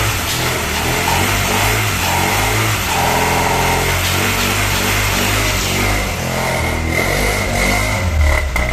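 A Renault Clio 16S engine, restarted after ten years standing, revs hard and loud, its snarl rising and falling through repeated blips over a steady running drone, with no voices.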